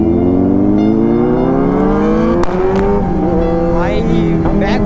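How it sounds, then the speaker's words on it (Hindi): A Kawasaki Z900 superbike roars loud and close as it revs through the gears, its exhaust giving sharp cracking pops at the gear change. "भाई बैक फायर देख रहे हो, क्या पटाखा मारती है गियर चेंज होते ही"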